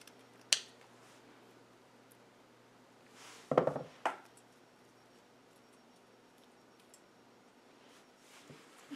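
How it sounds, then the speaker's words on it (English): A few sharp snipping clicks from scissors cutting wire ribbon, a louder cluster of cuts after a faint one, in a quiet room. "Using my scissors, I'm going to cut this at an angle"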